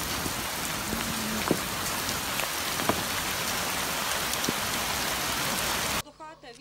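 Heavy rain pours down during a hailstorm at a house, a dense, loud continuous hiss with scattered sharper impacts, cutting off abruptly near the end.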